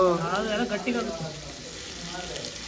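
Onions sizzle and fry steadily in a pan as ginger garlic paste goes in, with voices talking over the crackle at the start before the steady sizzle carries on underneath.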